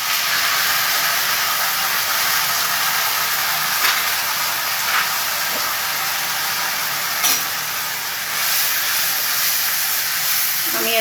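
Tomato paste made from two large tomatoes sizzles steadily in a pan for kofta curry, a continuous close hiss with a few brief louder spits, no voices.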